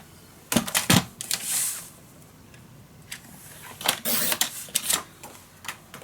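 Paper being cut for a steampunk Christmas mini album, with close, sharp snips and clicks of a trimmer or scissors in short bursts separated by quiet pauses.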